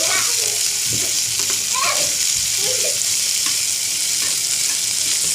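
Tomatoes and green chillies stir-fry in a hot pan for paneer bhurji, giving a steady, loud broadband sizzle with occasional soft scrapes and clinks of stirring; a voice is faint in the background.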